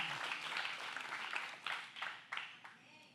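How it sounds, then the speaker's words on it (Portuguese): Church congregation applauding during a Portuguese-language sermon: a soft, steady wash of many hands clapping, heard somewhat distant, with a few sharper clap bursts toward the end. "Aplauda o Senhor com alegria."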